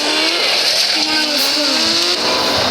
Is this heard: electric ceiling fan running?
no